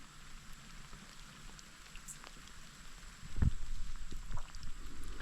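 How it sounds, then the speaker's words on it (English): Light rain patters steadily on a surface, quiet at first and growing a bit louder and fuller toward the end, with no voices. "We're not going to go with it raining just like this."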